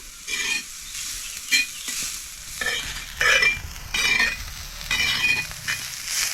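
Onion roasted in a pan on a wood-fired stove with garlic and coconut, repeated bursts of scraping stirs over a low sizzle, each stroke distinct and close, without talking.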